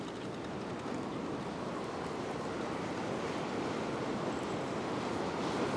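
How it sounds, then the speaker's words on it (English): Powerful ocean waves wash onto a beach where people are fishing close to shore, a steady, fairly faint broadband roar of surf with no clear individual breaks, and no voices. "These waves are quite powerful."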